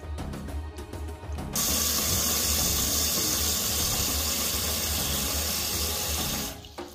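A toilet tank refills after its fill valve is adjusted, water rushing in with a loud, steady hiss after a few clicks and taps, then cutting off near the end.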